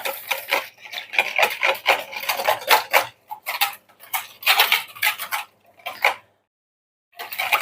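Leek filling being stirred in a pan for a leek and bacon tart, with a steady run of scraping, rubbing strokes and soft sizzling patter, pausing briefly near the end before resuming.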